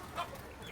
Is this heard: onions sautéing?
no